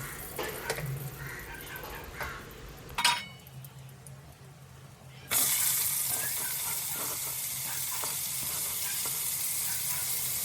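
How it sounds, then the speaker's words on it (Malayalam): Sliced onions frying in hot oil in a home kitchen for fish biryani, a soft sizzle with a few clinks and a brief tap-water rush before a louder, steady hiss takes over. "നമുക്ക് ഈ ഓയിൽ തന്നെ നമ്മളെ ഉള്ളി അങ്ങോട്ട് വാട്ടാം"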